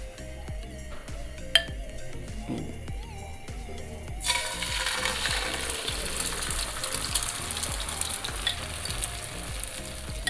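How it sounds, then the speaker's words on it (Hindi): An egg mixture for anda magaz masala is poured into four tablespoons of very hot oil in a pan. The oil is quiet at first, then breaks into a loud, steady sizzle that continues to the end. "तेज़ गर्म ऑयल में आपने इसको डालना है।"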